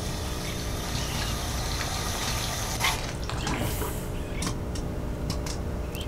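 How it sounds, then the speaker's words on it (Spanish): Water runs steadily from a tap in a video game, a continuous broadband rush that carries on for the whole stretch and surges briefly partway through amid other game sounds. "¡Yupi, un grifo! ¡Gastemos agua!"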